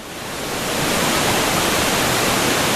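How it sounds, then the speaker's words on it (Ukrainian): Steady, loud rushing water roars without a break, a dense wash of white noise from a turbulent waterfall pouring into a mountain river. "Перед нами бурхливий водоспад та гірська річка"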